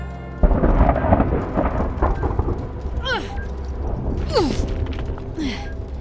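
Loud rumbling thunder rolls over steady rain in the video game Return to Grace, with a few sweeping whooshes and a faint voice underneath.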